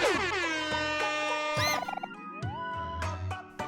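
A big air horn blown in the OMORI video game, several loud, sustained blasts that fall in pitch, with short gaps and a final rising squawk, heard alone without talk.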